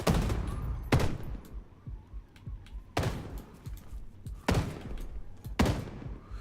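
Bursts of gunfire in a VR shooter game ring out in four loud, sharp volleys about a second and a half apart, each trailing off into rumble, with faint background game sounds between them.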